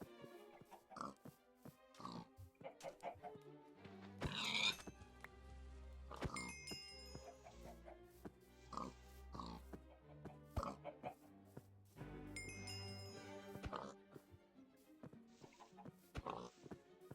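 Pigs oinking in the Minecraft modpack GregTech New Horizons, short grunts scattered through a busy mix of game sounds and chimes, moderately faint.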